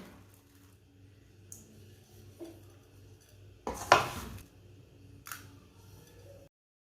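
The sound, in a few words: plate and utensils clattering while serving panjiri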